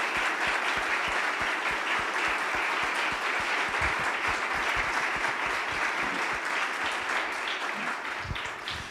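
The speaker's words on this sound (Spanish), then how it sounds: "todos la aplaudimos" Audience applause at an international seminar in Mexico, a dense, steady wash of clapping holding at full strength throughout.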